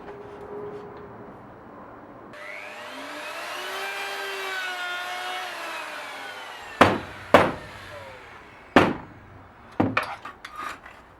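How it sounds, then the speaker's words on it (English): Router cutting grooves in narrow wooden drawer side pieces for a workbench drawer, a steady loud whine for several seconds that dies away, followed by a few sharp knocks and clatters from the wood shifting in its clamps. "I want to make the grooves with my router."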